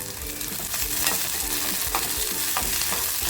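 Ginger, chili and garlic sauté with browned onion in a pan, giving a dense, continuous sizzle close by with repeated scraping stir strokes.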